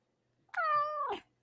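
A single clear cat meow, drawn out and slightly falling at the end, close and alone against a silent background.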